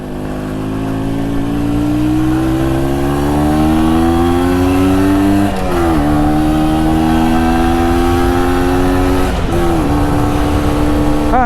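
A 125cc two-stroke MZ TS125 motorcycle is ridden on the road. Its engine buzzes steadily and climbs in pitch, and it shifts up with brief dips before settling into fourth gear at about 40 mph. The sound is loud and close.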